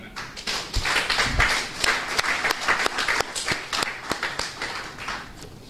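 A room of people at a book launch clapping together in sustained, dense applause that carries on steadily throughout at close range.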